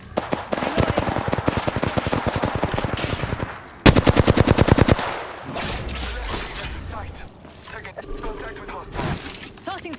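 Rapid automatic gunfire in a shooter video game, loud bursts of evenly spaced shots with a short pause and a second sharper burst, then scattered impacts, with voices talking.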